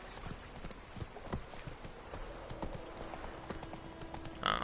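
Horse hooves clip-clopping steadily along a road in the Witcher 3 video game, a close, rhythmic series of hoof strikes with a brief whinny-like note near the end.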